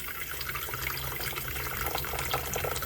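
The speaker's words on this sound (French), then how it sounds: "Là, je viens remplir mon pichet d'eau." Tap water streams steadily into a pitcher at close range, a continuous loud splashing rush with no pauses and no talk.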